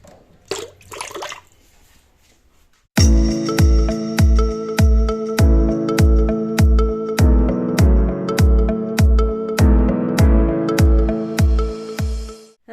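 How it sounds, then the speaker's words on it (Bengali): A wok is scrubbed clean at close range with loud, regular strokes about every half second, each carrying a metallic ring. A quieter stretch comes before the scrubbing starts. "তো চলো কড়াইটা মেজে নিই।"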